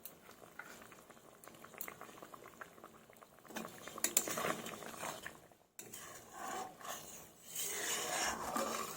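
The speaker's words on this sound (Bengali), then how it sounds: "মাছের ঝোলটা আমার ঝোলটা ফুটে গেছে" Fish curry broth boiling in a pot bubbles and gurgles continuously, close and fairly soft, growing a little busier toward the end, with no talking.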